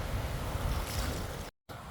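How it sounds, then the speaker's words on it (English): Ocean surf washes steadily onto Kailua Beach on Oahu, a close, continuous rushing roar with some wind noise and a brief dropout near the end. "I'm sitting in the waves."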